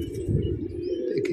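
A pigeon gives a brief, deep throaty coo close by, a low rolling murmur lasting just over a second.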